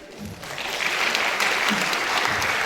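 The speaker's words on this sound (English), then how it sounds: "Clap for yourself." Students in a school career-guidance session break into dense, steady applause for themselves, a roomful of hands clapping loudly and continuously.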